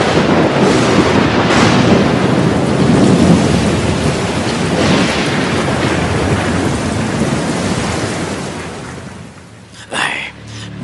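Heavy rain pours in an animated film, a loud, dense roar of downpour that holds steady before thinning toward the end, where a brief sharper sound breaks through.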